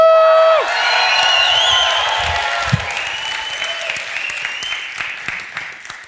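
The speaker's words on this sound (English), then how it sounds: "we're just going to clap our hands and go, woo, woo, woo" Audience clapping and cheering together with whoops at an event, loud and sustained at first, then a steady applause with crowd noise.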